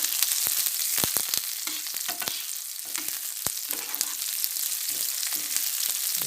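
Garlic, shallots and chili sauté in a hot pan with steady crackling sizzle and occasional sharp pops and scraping stirs, close and continuous, with no talking.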